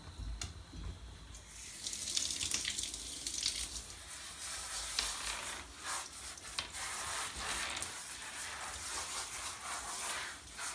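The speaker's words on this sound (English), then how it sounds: "spraying away from the dog and then slowly moving the stream of water up onto the dog's body" Warmed water sprays from a handheld hose to soak a dog during a grooming bath, a steady close hiss of spray with light rubbing and splashing throughout, no talking.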